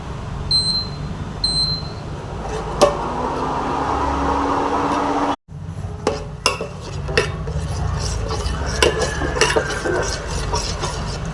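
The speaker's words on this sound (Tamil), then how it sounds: "இது கலக்கிட்டு அதுக்கு பிறகு ஒரு 2 நிமிஷம் வேக வச்சுக்கலாம்." A spoon stirs powdered sago porridge mix in a pot, producing steady scraping and occasional metallic clinks over a constant background hum, with a brief dropout midway before the stirring continues.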